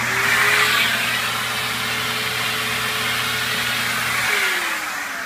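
A Husky Storm central vacuum running with its exhaust muffler removed gives a steady motor whine with strong tonal hum and airy rush, its pitch sliding as it winds down near the end.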